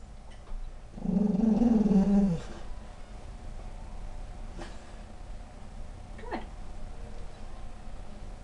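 A dog growls in one sustained, rumbling burst during a nail trimming, fairly close and loud, then the room falls quiet apart from faint handling noises.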